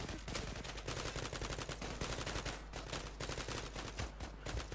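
Rapid automatic gunfire in the online shooter Zula during a 5v5 deathmatch, bursts of shots crackling continuously and loudly throughout with no voices over them.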